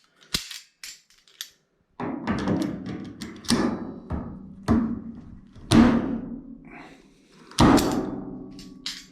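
Springs being pried off a Maytag washing machine with pliers: sharp metallic snaps and clanks, several close, loud impacts spaced irregularly with brief rattles between, no talking.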